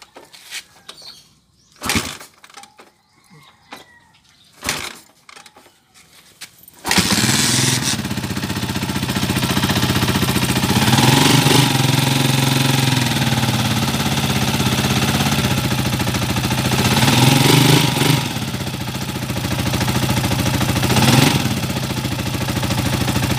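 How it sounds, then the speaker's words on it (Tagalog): A 28-year-old Honda TMX155 motorcycle with contact-point ignition is kicked over several times with sharp clanks, then fires up and settles into a loud, steady near idle with a few throttle blips. "ibaba muna natin tong motor para mapandar natin at mapakinggan muna natin mga kabro yung kanyang andar"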